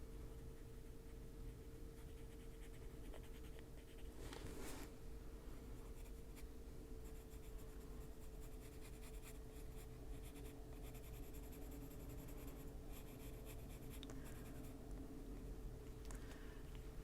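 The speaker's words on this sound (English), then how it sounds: "I need a black pencil. I need to get his eye darker." A black colored pencil shades on paper in a quiet room, a faint, steady scratchy scribbling that keeps going throughout with occasional slightly louder strokes.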